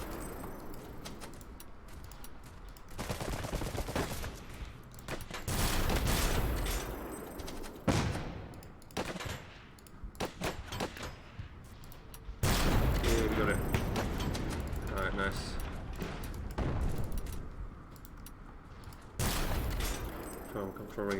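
Bursts of gunfire and fusillades from units fighting in the Iron Harvest real-time strategy game, dense crackling volleys that rise and fall in waves, with someone talking over the battle.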